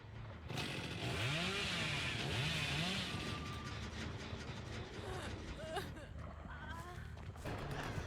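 Revving chainsaw in a multiplayer killer horror video game, a loud buzzing drone that rises and falls continuously and is mixed with other game noise.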